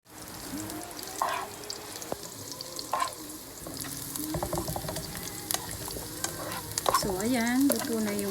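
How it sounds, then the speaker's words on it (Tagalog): Chopped garlic and onion sauté in a hot pan for arroz valenciana, a steady close sizzle with scraping stirring strokes and a few clanks, with the frying growing fuller toward the end. "magigisa tayo ng bawang at sibuyas"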